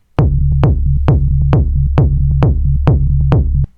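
An electronic kick drum pounds an even four-on-the-floor beat, about eight punchy hits, over a looping low synth bass pattern in a techno track, loud and upfront.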